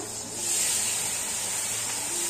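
Ground green pigeon pea (sole) paste dropped into hot oil with fried garlic, a steady loud hiss that swells up after a moment and holds, close and alone.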